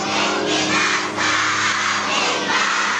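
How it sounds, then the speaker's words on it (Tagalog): Fans scream and cheer loudly at a mall show for Ruru Madrid, a dense, continuous roar of high-pitched crowd voices that swells and dips in waves. "Hiyawan ang fans nang makita si Kapuso action drama prince Ruru Madrid."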